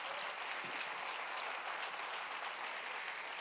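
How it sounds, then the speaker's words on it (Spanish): A church congregation claps and applauds steadily in a dense, continuous wash of hand claps that stays even throughout, faint and without clear speech. "dele palmas al Señor de la gloria"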